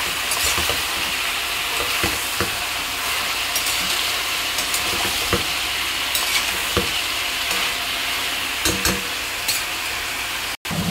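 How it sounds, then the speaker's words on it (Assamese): Chopped onions frying with chicken in a pan, a steady loud sizzle broken by repeated scraping stirs of a spoon, close up with no talking. "পিয়াজ দি অলপ দেৰি ভাজি লম"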